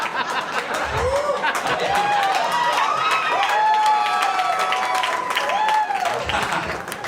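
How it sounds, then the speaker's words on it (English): A stand-up comedy audience cheers and applauds loudly and steadily, with whoops, chatter and chuckles rising through the crowd and no comedian speaking over it. "I don't know why y'all cheer for that,"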